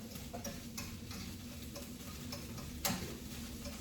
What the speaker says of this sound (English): I want to make sure y'all stir that up real good, just like that.